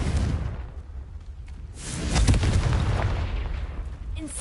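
A Confringo fire spell in a Harry Potter video game bursts into a deep booming explosion after a quieter rumbling lead-in, the blast rolling on and fading slowly.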